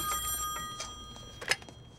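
A telephone rings indoors with bright, repeated bell bursts in a quick rhythm, moderately loud and alone, no voices.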